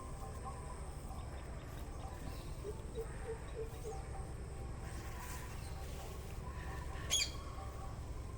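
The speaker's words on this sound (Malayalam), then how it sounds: "അതായത് തത്ത പോണ്" A brief, shrill parrot squawk rings out once near the end, faint over a quiet outdoor hum in a green bean garden.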